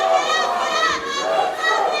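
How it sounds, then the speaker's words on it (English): Wrestling crowd at an independent IZW show cheering and shouting steadily throughout, dense and loud with high-pitched voices, under a commentator's talk. "The crowd actually getting behind Bobby Starr."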